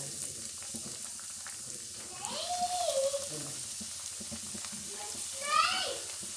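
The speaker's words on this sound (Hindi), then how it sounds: "ये देखिए, इसको हम लो फ्लेम पे फ्राई करेंगे" Breadcrumb-coated stuffed bell pepper rings frying in hot oil over a low flame, a soft, steady sizzle running throughout with a couple of brief metallic scraping squeaks, fairly quiet.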